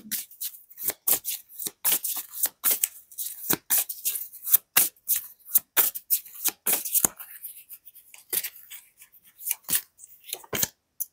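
Oracle cards shuffled and drawn during a French astrology reading, a dense run of crisp papery riffles and flicks at close range with no talking.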